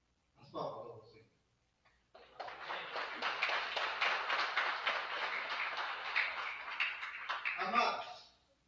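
A church congregation claps together in a sustained, dense burst of applause lasting several seconds, with a voice speaking briefly just before and as it dies away.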